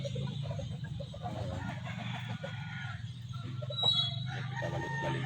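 Three hens and chickens on a farm, steady clucking and fowl calls throughout with a brief rooster-like crow near the middle, close and moderately loud over a low background hum.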